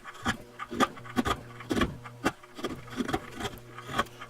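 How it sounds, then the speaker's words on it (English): Sharp chisel paring across the wood grain, a series of short crisp scraping strokes with tapping, close by and moderately loud, each cut clearly separated in a steady working rhythm. "If it's extremely sharp, it'll go ahead and cut across grain"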